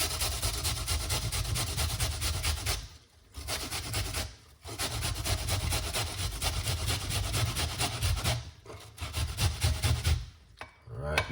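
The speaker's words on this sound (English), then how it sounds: "Now what you want to do with the purple onion is grate it." A purple onion rubbed against a grater, giving steady raspy strokes in long runs with brief pauses between them, close and alone with no talking.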